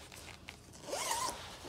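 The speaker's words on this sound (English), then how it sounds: "You open it up with the zippers below." The zipper on an xArm heat pad cover is pulled open in one quick, close rasping zip after a few soft handling taps.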